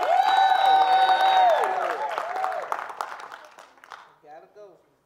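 A church congregation applauds and cheers, loud at first with raised voices over the clapping, then gradually dying away to a few scattered claps and speech as the noise fades out.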